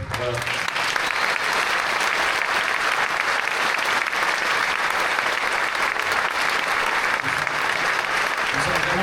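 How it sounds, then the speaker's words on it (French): Sustained applause from an audience for a speaker standing alone on a stage in Paris, a dense steady roar of clapping that fills the whole stretch with no pauses. "Trop mal d'être applaudi tout seul sur scène"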